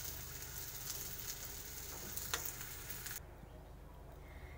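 Rotis fry in a pan with a soft continuous sizzle, fairly quiet and close, a few faint clicks near the middle before the hiss drops to a lower hum.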